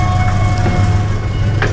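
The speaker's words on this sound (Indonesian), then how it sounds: "di sebelah kiri kita nih kereta lokal Garut dari Purwakarta nih, tujuan Garut. Nah, ini tiba di stasiun Leles" A local Garut train arriving at Leles station gives a loud, steady low rumble with faint squeals and clatter above it and no talking.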